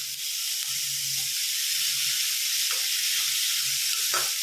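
Beetroot sautés in a pan with a soft, steady sizzle and hiss, joined by a few faint clicks of stirring, quiet and close throughout.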